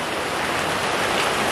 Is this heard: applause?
no